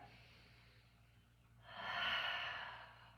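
Slow breathing during a yoga stretch: a quiet, drawn-out exhale, then a louder, breathy inhale that swells and holds for about a second and a half in a still room.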